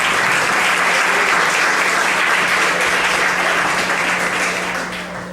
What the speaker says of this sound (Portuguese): Suas palmas para Jesus.